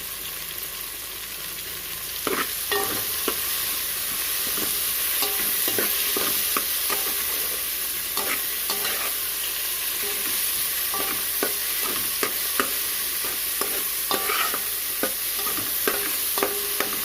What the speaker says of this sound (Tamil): இப்போ புதினா வதங்கிடுச்சு.